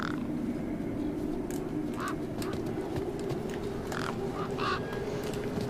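Bird in the Beyond a Steel Sky video game giving several harsh, squawking calls in short bursts over a constant low mechanical hum, moderately loud, no speech.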